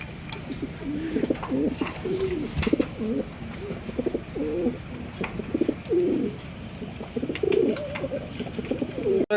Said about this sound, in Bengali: এখানে রয়েছে বিশাল সাইজের একজোড়া লক্ষা কবুতর